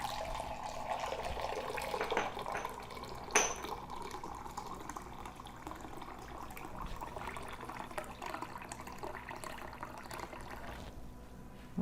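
Water pours steadily into a 2-cup measuring cup in a home kitchen, a continuous close trickling fill with no talking.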